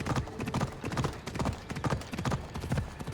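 Horse hooves clip-clop steadily on the ground in Assassin's Creed Odyssey, The Fate of Atlantis, Fields of Elysium, a close, rhythmic trot of repeated sharp strikes with no one talking.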